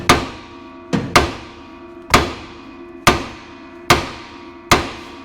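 A hammer strikes a stuck tie rod on a 1976 Ford van in seven sharp metallic blows, each ringing and fading. The blows come at a steady pace, with one quick double hit early on.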